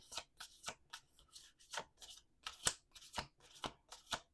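Repeated riffling of playing cards being shuffled, a steady series of crisp bursts, close and fairly quiet, with no voices.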